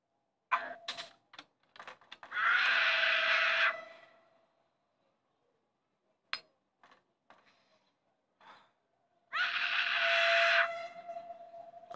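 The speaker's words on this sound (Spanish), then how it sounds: "ese niño y sigue gritando" A child screams in the video game Hello Neighbor: two long, loud, shrill outbursts separated by quieter scattered clicks and knocks.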